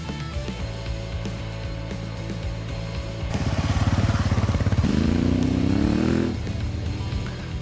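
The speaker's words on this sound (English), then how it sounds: "learning the basic techniques on our lightweight 250cc machines." Lightweight 250cc dual sport motorcycles at an adventure riding training camp, engines idling then revving up loudly for a few seconds with a rising whine before settling back to a steady idle.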